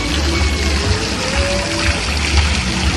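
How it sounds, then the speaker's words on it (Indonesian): A small man-made waterfall flows in a park at Tanjung Bunga, making a loud, continuous, close rush of pouring water with no pauses and no voices. "yang ada di Tanjung Bunga sekitaran taman air terjun mini"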